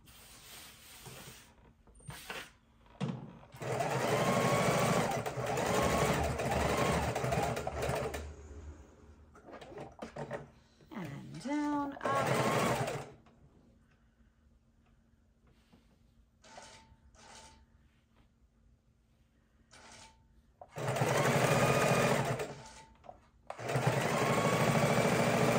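A sewing machine stitches fabric for a seat belt cover in bursts of rapid, loud mechanical whirring, pausing between runs for pivots, with quieter clicks and handling sounds in the gaps.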